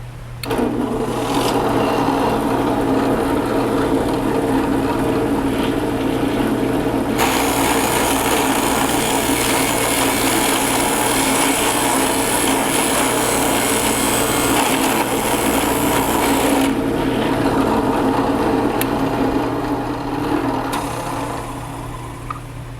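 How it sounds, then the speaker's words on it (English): A drill press whirs steadily as a rosette cutter plunges and grinds into wood, the cutting noise swelling louder for several seconds in the middle before easing back. "Simply turn on your drill press and slowly plunge into the material, making that beautiful rosette pattern."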